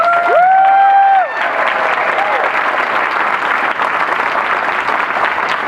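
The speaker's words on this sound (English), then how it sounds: "Let's give him a round of applause." A convention audience at a live podcast panel breaks into applause that starts under a fading tonal sound and continues as a thick, even roar of clapping for several seconds.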